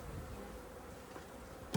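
Honey bees buzzing around an opened top bar hive during a hive check, a soft continuous hum close by, with a faint click at the end.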